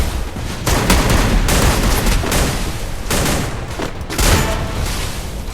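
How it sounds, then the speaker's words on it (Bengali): Gunfire from a tournament match in a shooter video game, including a sniper rifle, comes as loud, dense bursts of shots with booming reports, several clustered volleys spread across the stretch with no talk. "এখান থেকে একটা রাউন্ড দিলাম আর একটা স্নাইপার ফাটতেছে আমার এখান দিয়ে।"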